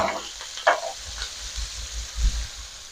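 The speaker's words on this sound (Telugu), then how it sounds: "ఈ విధంగా మనం ఫిష్ని ఆయిల్లో లైట్గా అవనిస్తుండాలి" Fish shallow-fries in oil on a tawa with a soft, continuous sizzle. A few spatula scrapes and low knocks sound up close, and no one speaks.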